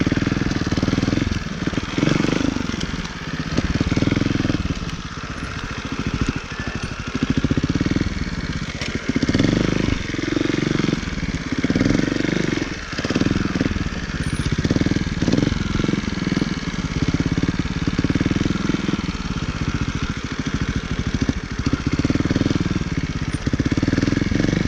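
A 2018 Beta Evo Factory 300 4T trials motorcycle engine runs steadily and loud throughout, with a continuous low throbbing drone and small rises and dips in revs.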